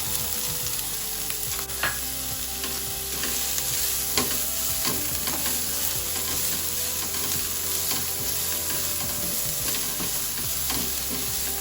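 Garlic, ginger and onion fry in homemade butter in a pan for pav bhaji, a steady close sizzle with a spoon stirring and scraping against the pan throughout, with no talking.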